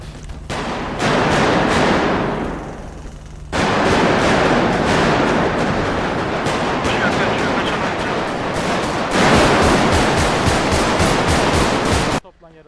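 Sustained bursts of automatic gunfire in a video game roleplay police shootout, loud and dense rapid rattling that keeps on with only brief pauses.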